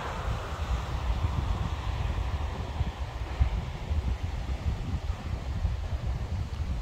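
Strong, gusty wind blows during a supercell thunderstorm near Voiron in Isère, a continuous rushing roar buffeting the microphone with no pauses.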